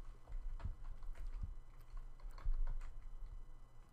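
Steady, fairly quiet typing on a computer keyboard at close range, an irregular patter of key clicks with a few louder taps and no voices.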